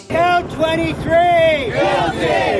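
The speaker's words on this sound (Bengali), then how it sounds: "নিউ ইয়র্ক সিটিতে আদালত কক্ষের বাইরে ট্রাম্প বিরোধীদের উল্লাস।" A crowd outdoors cheers and shouts in a series of loud, rising whoops and yells, several voices overlapping in bursts.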